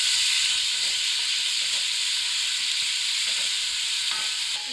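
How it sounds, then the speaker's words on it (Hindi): Ginger paste and garlic paste fry in hot oil for a haleem, a steady loud sizzle and hiss with occasional stirring scrapes throughout, no talking. "1 टेबलस्पून अदरक पेस्ट, 1 टेबलस्पून लहसुन पेस्ट ऑयल के अंदर शामिल कर देंगे। अच्छे से हिला लेंगे।"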